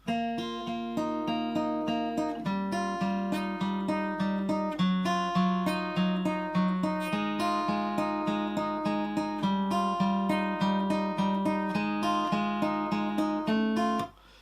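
A steady, plucked guitar melody played fingerstyle, notes ringing in an even rhythm for several bars, clear and close with no voices.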